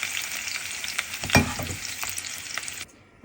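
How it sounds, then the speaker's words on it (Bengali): Potatoes fry in hot oil in a pan with a strong, close crackling sizzle, and a spoon stirs them once partway through, with no talk over the sound. "আমার তেলটা গরম হয়ে গেছে, আমি এখন আলুগুলো ভেজে নেব।"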